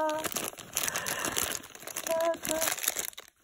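Paper packaging of a blind bag crinkles and tears up close in a steady run of rustling, with a voice speaking over parts of it.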